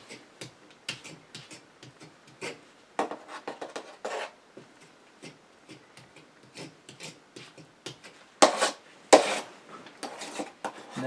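A drywall knife spreads joint compound over tape on a cracked wall, giving repeated scraping swipes and clicks in an irregular rhythm, close and fairly quiet, with a few louder strokes.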